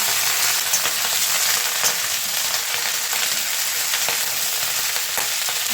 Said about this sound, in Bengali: এবার আমি ভেজে নেব। এখন আমি লবণ দেবো না